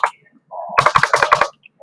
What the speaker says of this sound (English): So I'm just going to type mine up there